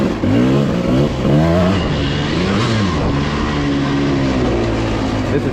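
A 1995 KTM 300 dirt bike engine revs up and down in Capitol Forest, loud and close, its pitch sweeping in repeated surges before settling into a steady drone.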